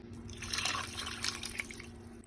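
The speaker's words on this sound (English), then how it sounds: "I'm gonna put about 3 cups of water in here." Water pouring steadily into a cooking pot on the stove for beans and rice, a continuous close splashing trickle lasting a couple of seconds with no talk.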